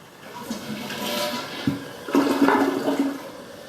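A close toilet flush in a newly built house: a rising whoosh of rushing water, then a second gurgling surge as the bowl drains and refills.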